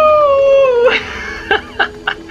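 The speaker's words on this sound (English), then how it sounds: "after the howl, the cries of the werewolf" A werewolf howl from the Dire skin in Fortnite Season 7, loud and close: one long, falling, tonal howl, then a few short, sharp bursts, like light clapping, in the last second.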